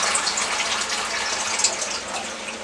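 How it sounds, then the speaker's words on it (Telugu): Water pours steadily into a pan of sweet pumpkin curry, a continuous close splashing gush with no talk. "దీంట్లో కొద్దిగా నీళ్ళు పోసుకున్నాం అండి"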